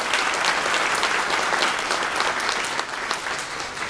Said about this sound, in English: How about another round of applause for our amazing speakers and our amazing staff